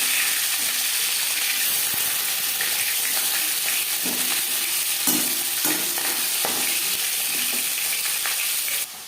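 Pieces of katla fish fry in oil in a pan, giving a steady close sizzle and hiss with occasional stirring clinks and pops.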